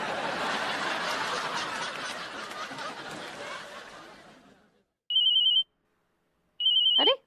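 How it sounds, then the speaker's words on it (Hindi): A household telephone rings in two sharp electronic bursts after a noisy, chattering stretch fades to quiet, with a brief voice at the very end. "अरे बहुरिया फोन।"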